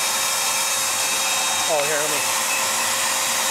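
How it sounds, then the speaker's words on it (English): A bee vacuum drones loudly and steadily with strong suction during a bee cutout from a retaining wall. The even motor roar fills the whole stretch, and a person speaks briefly over it. "There's the suction. That's what's nice about this vacuum."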